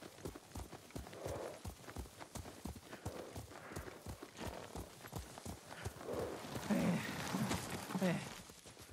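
Horse hooves clip-clop at a steady trot while riding in Ghost of Tsushima, the rhythmic beats continuing throughout, with voices speaking over them and a brief whinny near the end.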